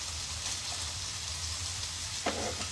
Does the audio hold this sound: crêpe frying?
yes